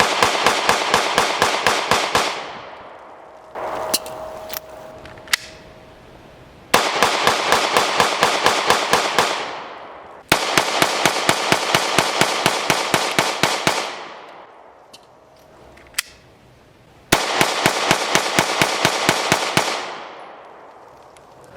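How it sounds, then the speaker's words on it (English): A Springfield Armory Hellcat pistol loaded from a 15-round magazine fires in loud, close, rapid strings of sharp cracks. Several bursts are separated by brief pauses with faint handling clicks. "Now we're going to fire 15 rounds with the new magazine."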